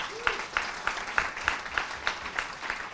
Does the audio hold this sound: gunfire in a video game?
no